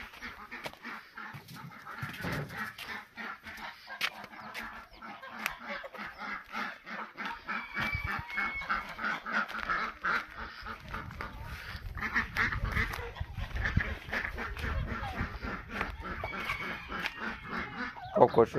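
A rooster and other poultry in a garden cluck and quack in a busy, steady stream throughout, moderately close, with some Romanian voices mixed in.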